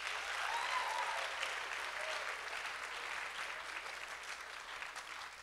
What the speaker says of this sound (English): how about one last round of applause for our seniors?